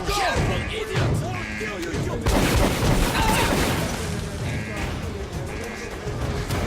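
Shotgun blasts in Metro 2033 Redux erupt in a dense, chaotic firefight, with heavy booming shots and crashing impacts overlapping throughout, under shouting and voices.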